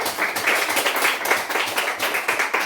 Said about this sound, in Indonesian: Kita beri aplaus yang meriah untuk kita punya diri sendiri.